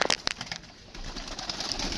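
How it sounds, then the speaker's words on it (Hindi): Pigeons at a pigeon keeper's loft in Azad Kashmir take off with brief wing flaps and soft cooing, close and fairly faint, with a low background hum. "ये देखें दोस्तों ये कबूतर इनका उड़ा जी माशाल्लाह"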